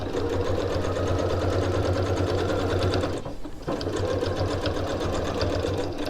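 A sewing machine stitching the seam of a reversible fabric tote, running in a steady close continuous whir with a brief pause around the midpoint before it resumes.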